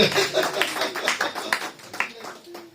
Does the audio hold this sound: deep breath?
no